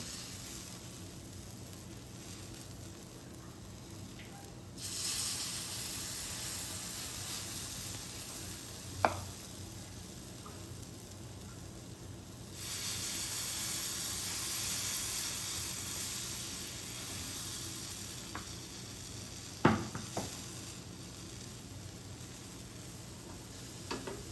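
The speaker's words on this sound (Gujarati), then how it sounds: "ત્યારબાદ આપણે આ રીતે થોડું થોડું બેટર લઈને પૂરા બનાવીશું" Besan puda batter sizzles on a hot pan, a steady close frying hiss that swells louder for several seconds at a time, with a few sharp clinks of a utensil and no talking.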